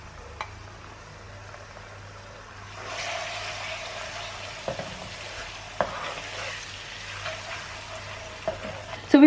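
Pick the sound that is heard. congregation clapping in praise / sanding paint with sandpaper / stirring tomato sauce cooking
stirring tomato sauce cooking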